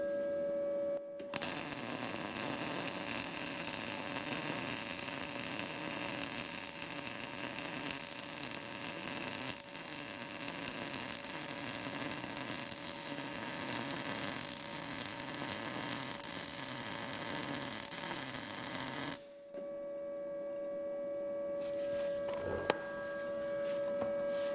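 An Arccaptain MIG200 MIG welder lays down a steady, loud, crackling hiss that runs unbroken for about eighteen seconds, then cuts off and leaves a faint electrical hum.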